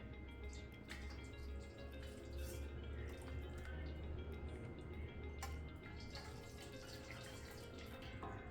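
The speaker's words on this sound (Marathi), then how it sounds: "आता हे पाणी आपण गाळून घेणार आहे" Water pours and patters steadily through a sieve, a continuous close splashing with a soft low rumble and no voices.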